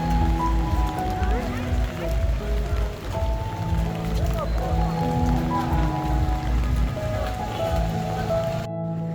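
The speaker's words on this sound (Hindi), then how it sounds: "बारिश काफ़ी हो रही है" Heavy rain falls on a street in Timergara city as a steady broadband wash, with traffic and someone talking over it throughout.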